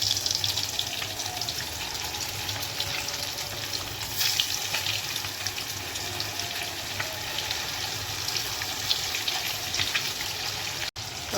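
Eggs seasoned with salt, turmeric and a little arrowroot fry in hot oil in a kadai, a dense, steady hiss of sizzling that runs unbroken and close, cutting out briefly near the end, with no talk.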